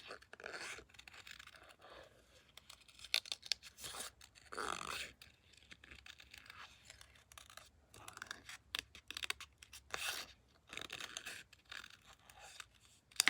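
Scissors fussy-cut around Stampin' Up Meaningful Flowers paper pieces: quiet, irregular snips and paper rustles come in short bursts with brief pauses between cuts, close by.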